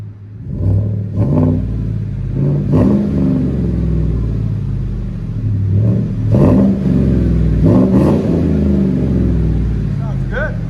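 A 2015 Chevy Silverado LT with a 5.3L V8, Z71 off-road package and dual Flowmaster Flow FX exhaust, heard close up in a steady deep rumble broken by several sharp throttle blips that rise and fall.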